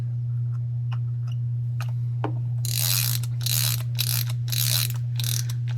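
A vintage 1957 Horrocks-Ibbotson Aristocast 1915B spincast fishing reel, freshly serviced with an added washer, winds with a rapid ratcheting click in repeated bursts over a steady low electrical hum.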